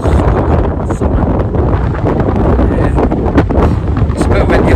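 Strong gusty wind buffets the microphone on an exposed mountain summit in the Scottish hills, a loud continuous roar with rough bursts and no clear voice.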